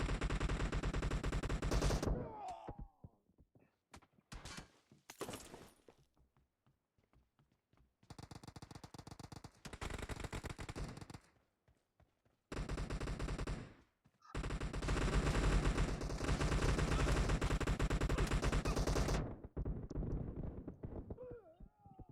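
In PUBG Mobile, loud bursts of automatic gunfire crackle again and again over about twenty seconds, separated by brief silent gaps, with long sustained volleys toward the end.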